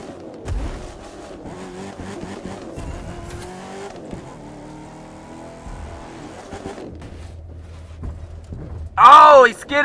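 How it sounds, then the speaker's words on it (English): A monster truck in the Hot Wheels Monster Jam video game skids on two tires and lands back on all four, with game engine drone and tire noise under excited voices, ending in a loud, sharp screech. "he skidded on his two tires and landed back on all four of his tires"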